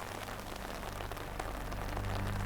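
Rain falling at Lake Louise, a glacier-fed lake in Banff National Park, as a steady soft patter on surfaces with a low hum underneath, no talking.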